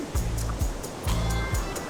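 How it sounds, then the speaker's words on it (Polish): Sea waves breaking on a beach at Phuket at sunset, fairly big surf, with a low rumbling wash that surges in repeated rhythmic swells, steady and close. "Dość spore fale, czyli jakaś radość dla surferów."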